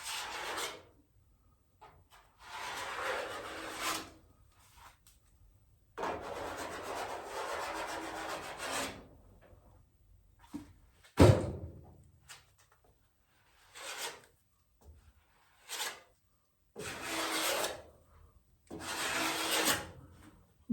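Body filler spread and scraped across a panel of a 1972 VW Super Beetle, a series of rasping, rubbing strokes in bursts of a second or two with short pauses between, close and moderately loud, no talking.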